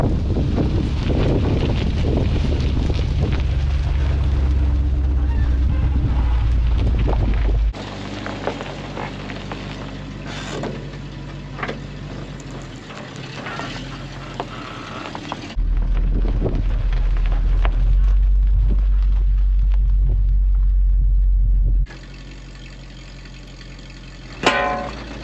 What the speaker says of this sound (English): Truck's making some new noises with a load on it,